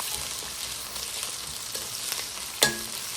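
Spices and garlic fry in oil for a fish curry, a steady close sizzle with faint crackles and one brief sharp clink of a utensil near the end.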